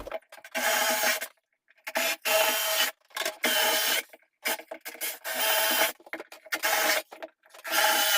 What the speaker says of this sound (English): so now I got to drill